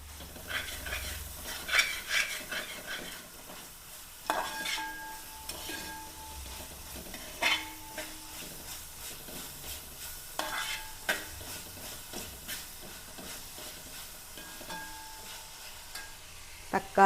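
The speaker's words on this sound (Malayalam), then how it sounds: "സവാള ഇട്ട് കൊടുക്കാം. ഒപ്പം ഇഞ്ചിയും വെളുത്തുള്ളിയും നന്നായിട്ട് ചതച്ചതാണ് ഇട്ട് കൊടുക്കാം" Onion with crushed ginger and garlic frying in a pan for a tiger prawn biryani gravy, a steady close sizzle broken by repeated clinks and scrapes of a spoon stirring against the pan.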